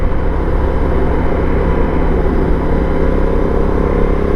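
Honda NT1100 large parallel twin motorcycle with a 270-degree firing order and an aftermarket N-can exhaust, producing a steady, loud, continuous rumble that holds at an even level throughout with no talking.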